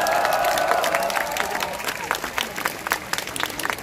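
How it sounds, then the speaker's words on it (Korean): A crowd at a nighttime candlelight protest rally in Seoul applauds steadily, dense clapping with some cheering that thins slightly toward the end. "큰 박수 부탁드립니다."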